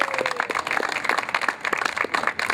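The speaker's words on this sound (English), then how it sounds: "Give her a round of applause." A crowd at a political solidarity event claps for Marti Emerald in steady, close applause that lasts through the whole clip.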